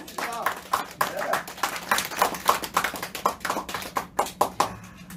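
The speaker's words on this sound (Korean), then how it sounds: "박수 한번 하십시다." An audience at a Daegu Suseong rally launch ceremony claps together in a quick, steady rhythm, sharp repeated hand claps close and lively under a man's ongoing speech.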